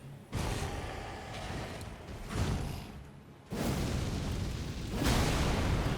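Big explosion attacks in the video game Elden Ring, a series of loud roaring blasts with whooshing rushes, each burst sustained for about a second or more before the next swells in.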